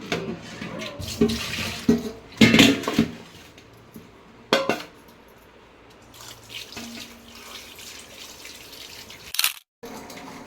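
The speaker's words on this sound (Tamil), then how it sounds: "கறி கழுவி கொடுத்துட்டேன்டா" Meat is rinsed in water in a kitchen, giving bursts of splashing and sloshing with pauses between them and a few drips. A clatter comes near the end, followed by a brief silence.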